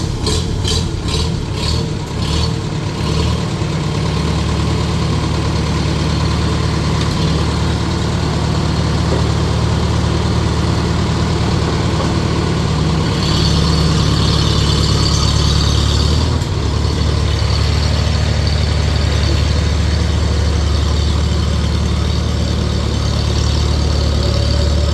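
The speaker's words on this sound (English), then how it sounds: "All these tractors here are going to go on the PTO dyno." Several farm tractors idle together while warming up before a PTO dyno test, a steady, loud, continuous diesel rumble with slight shifts in tone and no talking throughout.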